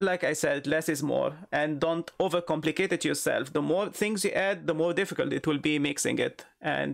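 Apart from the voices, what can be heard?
None of the usual background noises is heard.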